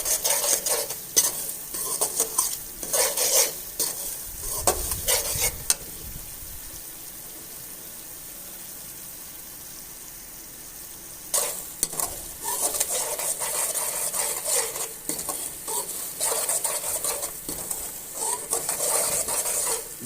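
Semolina (sooji) roasting in a pan for sooji halwa, stirred with a utensil: repeated scraping strokes over a soft dry sizzle, loud close bursts at the start and end with a quieter lull in the middle, no voices.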